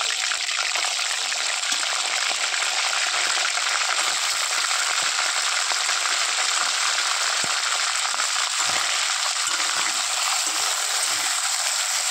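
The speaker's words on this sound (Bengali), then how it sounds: "এবার দেব মাংসগুলা ভাজা করব।" Broiler chicken pieces frying in hot oil give a loud, steady crackling sizzle throughout, a dense unbroken spatter with no voices.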